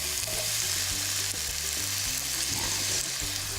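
Food sizzles steadily in olive oil in a hot pan, loud and close, a continuous bright crackle with soft stirring clatter and no voices.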